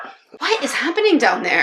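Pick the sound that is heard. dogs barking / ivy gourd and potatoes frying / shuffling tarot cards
dogs barking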